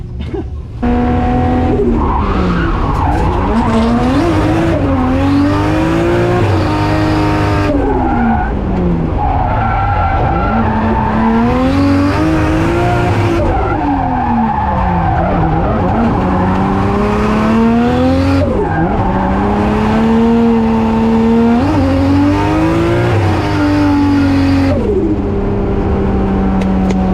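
An S14 Silvia drift car with an RB25DET engine slides through long drifts, its engine wailing and rising and falling under sustained tyre squeal, heard loud and close from inside the car across the whole run.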